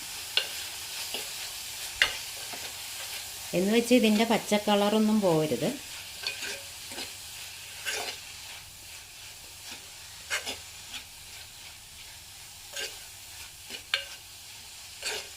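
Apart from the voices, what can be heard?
stirring drumstick leaves frying in a pan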